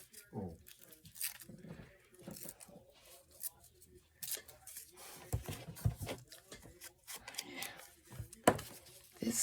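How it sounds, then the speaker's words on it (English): Paper from junk mail is torn for a music page in a junk journal, giving crinkly rips and rustles scattered across the clip, fairly faint and close, mixed with quiet talk. "I think I want to tear this a little bit."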